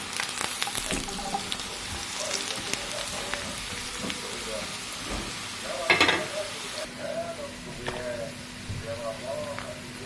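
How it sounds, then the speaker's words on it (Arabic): Potatoes frying in a pan with oil, a steady close sizzle running throughout, with some stirring clatter and a louder spatter burst midway, while a voice talks at times. "فقلت بقى احمر بطاطسايه"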